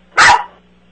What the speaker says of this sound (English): You gotta get a load of this dog.